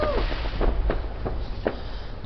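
Outdoor fireworks on a November night pop and crackle in a short burst of four or five sharp, mid-loud bangs spread irregularly over a couple of seconds, above a steady low rumble of background noise.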